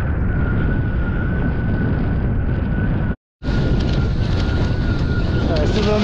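Steady, loud roar of light wind buffeting a GoPro 9 during wingfoiling, continuous rushing noise with a brief dropout near the middle before resuming.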